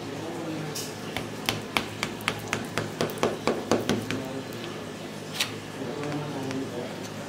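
A knife cuts a tray of set bottle gourd burfi into pieces, giving a quick run of about a dozen sharp taps and clicks against the tray. The taps sound close and fairly soft over a quiet kitchen background.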